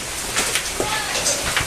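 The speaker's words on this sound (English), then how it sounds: "Now this is what you call a hailstorm." Hail pelting an outdoor patio during a heavy hailstorm, a dense, steady patter with sharper impacts scattered through it, loud and close throughout.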